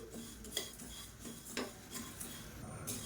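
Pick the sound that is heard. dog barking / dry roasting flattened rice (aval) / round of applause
dry roasting flattened rice (aval)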